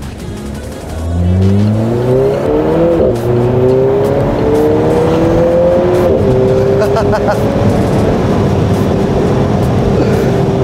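A car engine revs up and accelerates steadily while overtaking, its rising drone sustained and fairly loud, with road noise throughout.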